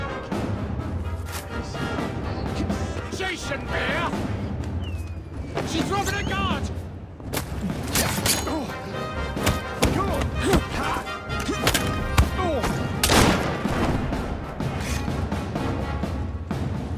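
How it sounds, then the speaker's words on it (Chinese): Gunfire erupts during a street fight in Assassin's Creed Syndicate, with repeated loud shots and impacts landing over a dense bed of game music and combat noise throughout. "枪声引来更多人。"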